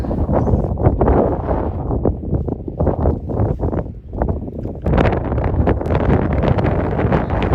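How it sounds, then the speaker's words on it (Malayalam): Strong gusting wind on a snowy Swiss mountain top, Rigi Kulm, buffets the microphone in heavy, uneven blasts, loud and close, rising and dipping for several seconds. "നല്ല രീതിയിൽ കാറ്റടിക്കുന്നുണ്ട്"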